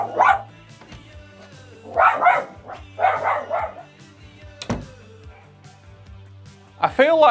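A dog barks repeatedly in a home while darts are played, with several bursts of loud close barking spread across the moment and a final sharper yelp near the end over a low background hum.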